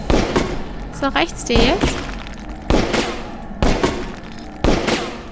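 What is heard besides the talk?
gunshots in the video game Overclocked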